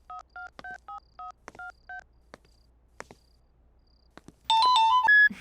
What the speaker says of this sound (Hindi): सिमरन को फोन करता हूँ।